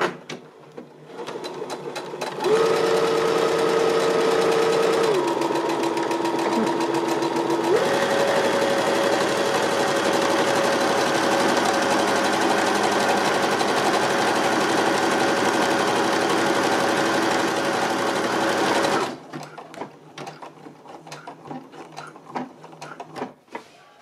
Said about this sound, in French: Je rabats donc mon pied presseur et c'est parti pour faire la boutonnière. Elle va se faire toute seule.